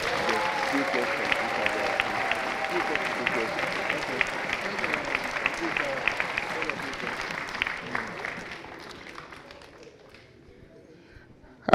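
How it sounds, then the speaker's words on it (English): An audience at a Nigerian presidential candidate presentation gives sustained, dense applause with some cheering, which gradually thins and fades out near the end. "can I please hear another big hand of applause?"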